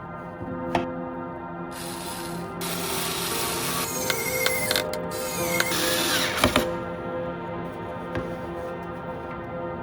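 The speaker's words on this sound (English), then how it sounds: "We'll screw this wooden support in place with these two screws." Screws being driven through a wooden support into a wooden base, giving steady grinding, creaking wood-and-metal rubbing with a few brief clicks, close and continuous for about ten seconds.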